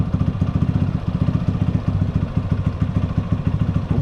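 A 2022 Yamaha Factor motorcycle engine idles close by after a carburetor adjustment, chugging in a steady, even, low beat with light mechanical clatter.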